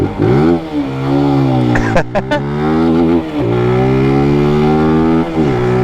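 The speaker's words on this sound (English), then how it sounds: "always rev your bike for the kids" A motorcycle engine revving hard in a European capital city, loud and close with repeated rising and falling throttle blips and a sustained high rev.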